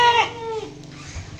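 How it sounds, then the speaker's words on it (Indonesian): A goat at a livestock market gives a short, wavering bleat up close, followed by faint rustling and low background noise. "Ini kambingnya tak tarik ke bawah dulu ya"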